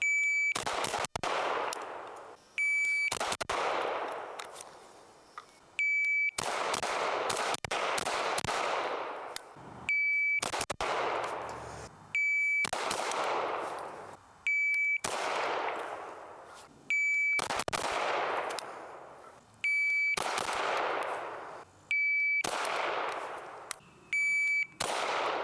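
A .45 ACP pistol-caliber carbine fires in roughly eight loud, rapid strings of shots, each preceded by a short electronic timer beep, with sharp reports echoing at an outdoor range.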